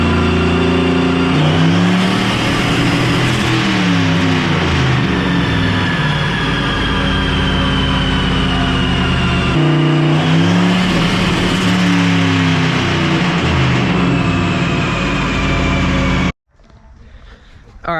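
A car engine with low impedance injectors is run on a dyno, revving hard at full load with rising and falling pitch through two long pulls. A sudden cut at the end follows a lean-out.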